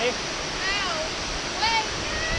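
Kuang Si waterfall in Luang Prabang, Laos, gives a steady broad rush of falling water, loud and constant, with faint voices mixed in.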